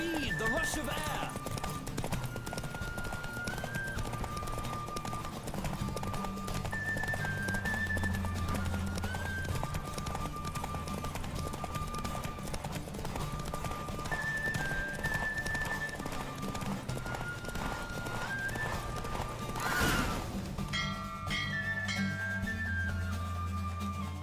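Hooves gallop at a steady rhythm in The Witcher 3, clip-clopping under continuous game music, with a bright chime near the end.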